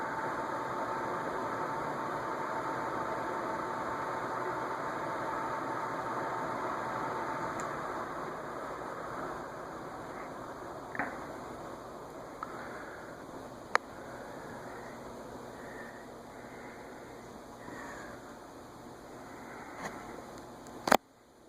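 An Autumaire Airmaster B36 36-inch industrial ceiling fan spins down after running on high, its steady whooshing hum slowly fading, with a few faint clicks and a sharp tap near the end.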